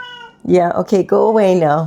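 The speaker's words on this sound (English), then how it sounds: "If you hear that, that's just my cat" A pet cat meows loudly and close by, a drawn-out call mixed with a voice talking over it briefly.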